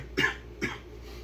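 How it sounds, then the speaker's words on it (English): A person coughs twice, two short, close, dry bursts about half a second apart, alone over faint background hum. "Here I am coughing."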